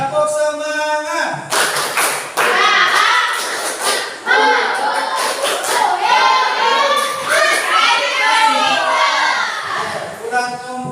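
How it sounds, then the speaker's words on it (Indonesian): A group of children doing a rhythmic spirit clap, tepuk semangat, sharp near claps and taps in quick patterned bursts mixed with children's voices chanting along, loud and lively throughout. "Tepuk semangat."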